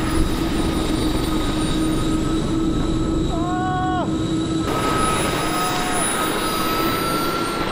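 Small jet-powered hovercraft with its jet engine whining steadily and loudly at close range, a continuous roar with high tonal lines that shifts partway through as the throttle is cut.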